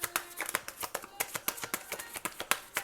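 Tarot cards being shuffled, giving a quick run of crisp riffling snaps and flutters in an irregular rhythm, close and fairly quiet, with no voices.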